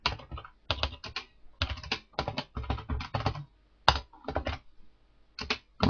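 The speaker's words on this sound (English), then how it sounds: "So the first thing I do is type in my address," Fingers tap out an address on a computer keyboard in close, clicky bursts with short pauses between words, and no voice over the keys.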